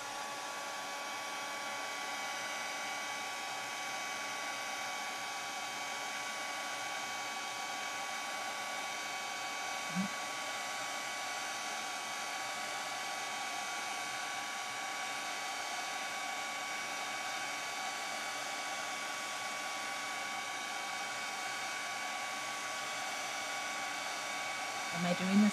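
A Wagner heat tool on full heat blows a steady, even whooshing hiss while warming craft foam for cardmaking, with one faint tap partway through and a small knock at the end.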